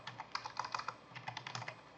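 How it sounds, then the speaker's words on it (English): Quick, light clicking of keys on a computer keyboard as a web address is typed, a short burst of irregular taps recorded close and fairly quiet, with no voices. "go up here into your URL and you want to type in"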